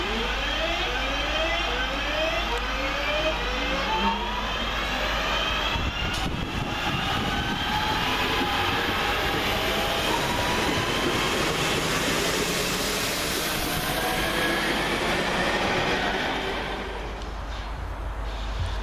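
A Class 323 Northern Rail electric train passes through Guide Bridge railway station, a loud, sustained roar with rising and falling motor whine that holds for most of the pass before easing slightly at the end.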